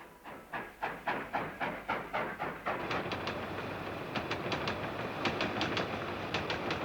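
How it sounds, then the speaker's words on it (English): A steam-era passenger train on the Trans-Siberian Railway chugs along in steady rhythmic puffs, then settles into a rolling rumble with regular clickety-clack wheel beats over rail joints, fairly close and with no voices. "Kulik set off on the Trans-Siberian Railway from Petrograd, across European Russia and half of Siberia"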